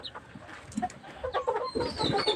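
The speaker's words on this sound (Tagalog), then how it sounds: "ito yung sisiw na kuwan guys" A young chick, recently recovered from pox and a cold, peeps in high thin chirps. Soft clucking and rustling come first, and a run of clearer peeps follows near the end.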